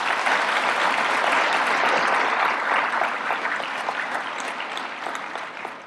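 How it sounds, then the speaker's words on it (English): An audience at a naval engineering command's industry day event applauds an event planner, with sustained, dense clapping from a large crowd that stays loud and steady before tapering slightly toward the end. "How about a special round of applause for Mr. Ryan Howard"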